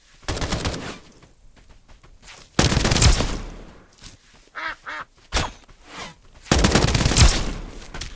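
Gunfire bursts in the game Escape from Duckov, loud automatic volleys at the start, around three seconds and near the end, with duck-like quacks in between.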